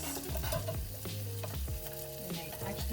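Scallions and shrimp frying in sesame oil give a steady close sizzle, with scraping stirs, under sustained tonal sounds like background music.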